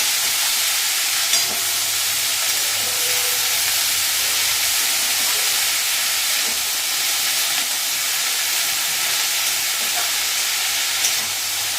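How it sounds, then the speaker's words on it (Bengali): Steady, dense sizzling of food frying in a pan, close and continuous with occasional faint clicks of stirring, no voices. "বাঁধাকপিটা দিয়ে একটু ভাজবে, ভেজে তারপর মশলা মিশাবে"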